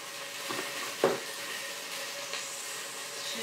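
Garlic sizzles steadily in a hot pan for a Chinese chicken soup, a soft continuous hiss with a couple of brief louder spatters or stirring scrapes.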